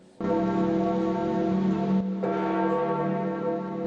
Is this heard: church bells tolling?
yes